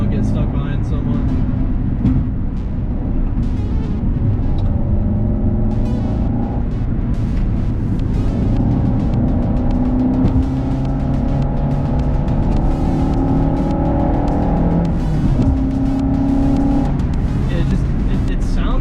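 A Renault Clio 172 engine drones and climbs through the gears at speed, with people talking over the steady road and engine noise.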